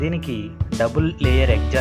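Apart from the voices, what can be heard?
No everyday noises stand out.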